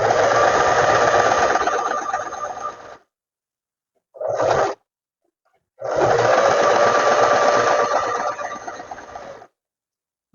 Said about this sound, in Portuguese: Agora é só baixar o calcador e continuar a costura aqui a margem de 1 centímetro.